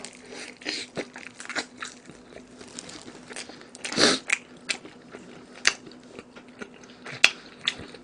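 Crunchy fried chicken from a Goobne Volcano menu is bitten and chewed close to the microphone, giving repeated crisp crunches and crackles with one loud bite in the middle, and no talking.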